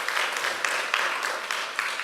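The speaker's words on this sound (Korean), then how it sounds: "우리 자녀들 한번 박수로 한번 격려할까요?" A church congregation applauds the children at a Sunday service, steady moderate clapping in a hall with a few voices mixed in underneath.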